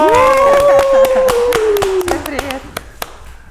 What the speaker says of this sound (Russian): Наши аплодисменты.